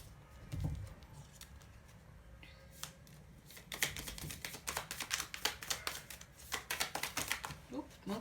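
Tarot cards shuffled and drawn, starting with a few faint slides and taps, then a dense run of quick riffling flicks up close; no talking over it.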